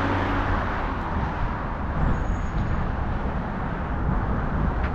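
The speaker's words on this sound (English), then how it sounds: "Uh-oh, one more car." Road traffic noise as a car passes near a walker at a crossing, a continuous loud broadband rumble of tyres and engine throughout, no speech.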